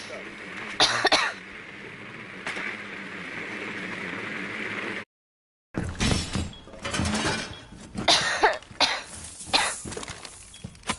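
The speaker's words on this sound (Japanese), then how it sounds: "早く咳をどうにかしたいよ" A girl coughs repeatedly in harsh, irregular bursts, close and fairly loud over a busy noisy background with clattering, cut by a brief silent gap midway.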